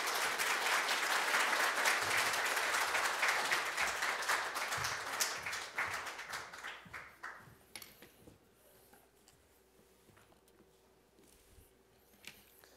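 A church congregation applauds to welcome a new pastor, a dense round of clapping that thins out and fades to scattered claps and quiet room tone, with no voices over it.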